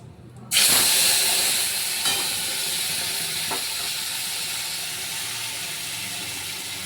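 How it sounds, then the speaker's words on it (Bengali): Ground spice paste of chilli, cumin and garlic poured into hot oil bursts into a loud, sudden sizzle that hisses steadily and slowly fades, with a couple of faint clinks along the way. "এবার আমি মশলাটা ঢেলে দেবো এর মধ্যে।"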